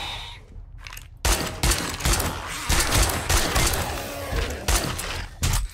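Video game gunfire in rapid bursts, loud clustered shots and impacts crowding one another after a brief quieter opening.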